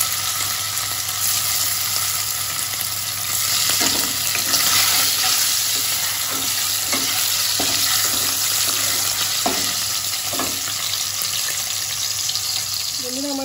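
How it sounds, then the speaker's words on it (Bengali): Paneer cubes frying in a pan at home for a Bengali-style shahi paneer, a steady close sizzle throughout with occasional light scraping and stirring clicks. "পনিরগুলো সব এইভাবে আমি সব ভেজে নিয়েছি।"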